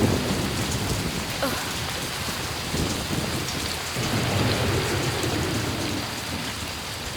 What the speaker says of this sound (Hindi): इतनी मुसलधार बारिश है कि किसी का चेहरा नहीं दिख रहा है